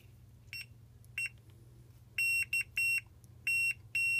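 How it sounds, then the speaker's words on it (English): A Fluke 87 multimeter sounds its continuity tone in a series of short, sharp beeps, some single and some in quick clusters, over a low steady hum. "so the continuity test works fine"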